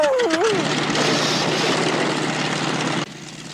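A cartoon propeller aeroplane engine drones loud and steady, a whining pitch sweep at the start, then the roar cuts off abruptly near the end.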